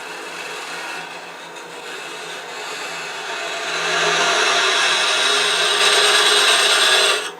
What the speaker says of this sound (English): Just about do a little bit of hollowing out.